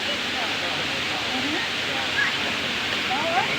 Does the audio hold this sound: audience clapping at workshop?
no